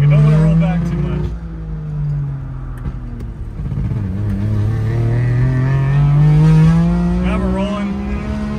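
A modified 1961 Saab 96 pulling away uphill from a stop, its small engine droning loud and close as the revs dip and then climb steadily, with people talking inside the car.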